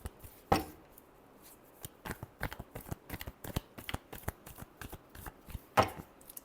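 Tarot cards riffled and shuffled by hand, a rapid series of soft crisp flicks and slaps in irregular bursts with two sharper snaps, close and quiet, no voices.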